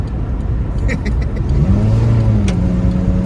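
Suzuki Samurai with a swapped-in 1.6L 16V engine accelerates on a frontage road, its loud engine note climbing in pitch from inside the cab, with people talking over it.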